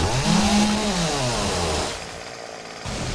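A chainsaw roars in the video game 7 Days to Die, loud and close with revving pitch swings, then dropping to a lower idle before briefly picking up again.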